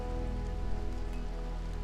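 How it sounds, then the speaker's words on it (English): Rain falling in the video game RimWorld, a steady, even patter of drops over a low continuous hum, with no voices. "And it's raining."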